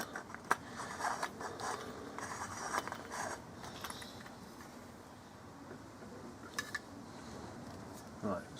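A pump is screwed into a multi-fuel camping stove, giving faint close-up ratcheting and threaded metal clicks in a quiet indoor setting, with someone talking over it.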